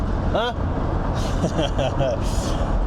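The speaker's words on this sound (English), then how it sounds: "The Metro's trundling along." A Rover Metro small hatchback driving along the road, a steady, loud engine and road rumble running throughout under talk.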